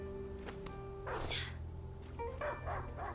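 A dog in the video game A Plague Tale: Innocence barks several times in short bursts, with a whimpering yip, over a steady low background hum.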